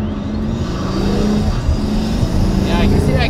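A Pagani Huayra supercar in sport mode accelerates hard, its engine note rising loud and close from inside the cabin while occupants exclaim over it.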